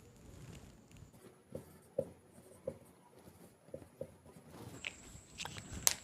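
Pen scratching on paper during a Hindi grammar lesson on noun cases, with soft irregular strokes and light taps close by and no one speaking.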